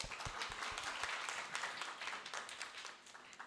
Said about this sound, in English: Let's give one more round of applause for our first panelists.